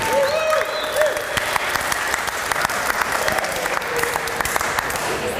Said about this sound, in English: I want a round of applause for the bridesmaids,